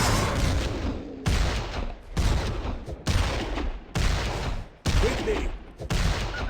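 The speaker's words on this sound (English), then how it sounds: "More shooting, less running." Video game gunfire in dense, sustained bursts of rapid shots, loud and close, broken by several short pauses, with faint voices mixed underneath.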